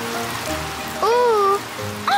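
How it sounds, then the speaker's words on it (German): Cartoon water spraying out of control, a steady hissing rush throughout, with surprised vocal exclamations rising briefly over the spray. "Papa Wutz, bitte stell das Wasser ab"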